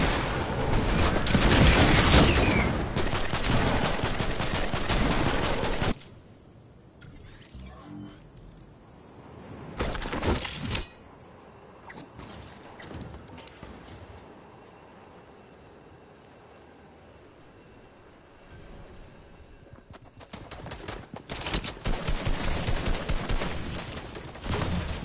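Gunfire in Fortnite, a loud rattling burst of rapid shots at the start, then a quieter lull with scattered shots and sporadic bangs, before another heavy volley of fire returns near the end.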